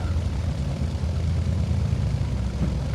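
A Beechcraft A36 Bonanza propeller plane taxis in X-Plane 11 with a steady, even drone of engine and propeller, constant and moderately loud throughout with no voices.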